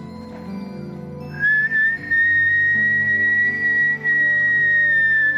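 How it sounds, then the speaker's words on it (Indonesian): A single person whistles one steady, sustained high note that begins after a moment and holds loud and clear to the end, over soft background tones. "Nih, lihat ya, aku bersiul lagi."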